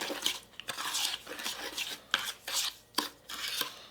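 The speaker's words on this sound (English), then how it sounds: "with your mixing utensil, you're just going to go ahead and mix everything together" A utensil scrapes and stirs through a thick rosemary lemon body scrub paste with coconut oil, giving close, quiet strokes in an uneven rhythm.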